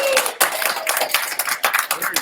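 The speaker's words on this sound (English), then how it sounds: "can we give Scott a round of applause" A class of students giving a round of applause, with a scattering of claps from a small group in a room and voices talking over them.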